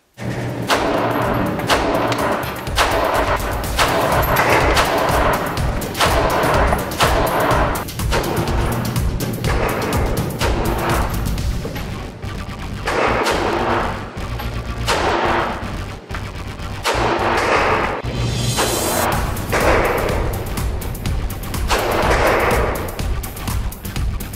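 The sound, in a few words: Ruger LC380 pistol gunshots at the shooting range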